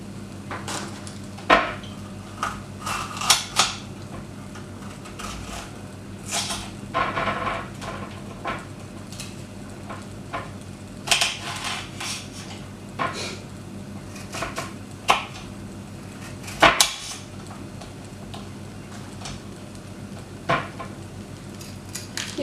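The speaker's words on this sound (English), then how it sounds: "now I'm going to chop the pepper" Knife chopping a pepper on a board while preparing vegetable pesto pasta, a series of irregular sharp taps and knocks with clattering kitchen sounds, close and fairly loud, with no talk.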